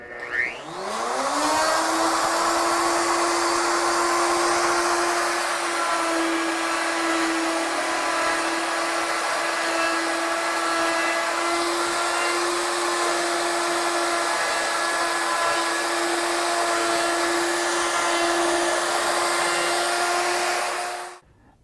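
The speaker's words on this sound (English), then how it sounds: "Now that the router is positioned for the second start, we'll turn it on, position it over the center," A router cuts a rope twist into a wooden pen blank, spinning up quickly to a steady, loud high-pitched whine that holds for about twenty seconds before winding down.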